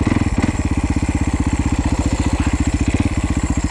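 A Yamaha YZ450F dirt bike engine idles and putters in first gear, giving a steady, rapid, loud thumping pulse close to the microphone that carries on evenly throughout.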